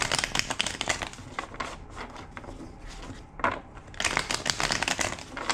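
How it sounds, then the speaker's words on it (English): Rapid papery riffling and slapping of a tarot deck being shuffled, close and crisp, in several bursts with short pauses between. "2 more shuffles."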